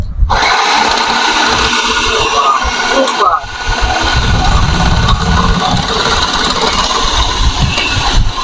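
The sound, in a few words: Miyako food processor motor slicing snake gourd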